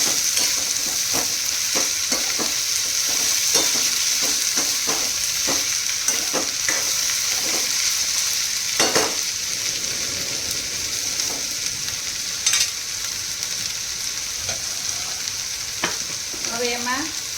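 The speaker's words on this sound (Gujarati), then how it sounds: "થોડા એવા સાતળવા દઈશું" Green onions sautéing in a pan for a smoky baingan bharta, a steady close sizzle with repeated scraping and stirring clicks of a utensil throughout, no voices.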